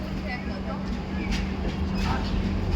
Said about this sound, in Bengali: অবশেষে ট্রেন খড়গপুর জাংশনে প্রবেশ করল।